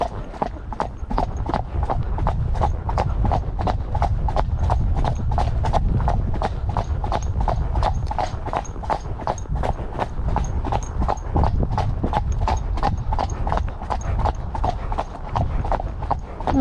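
A Friesian horse trots along a road with a steady, rapid clip-clop of hooves, loud and close throughout, with no talk over it.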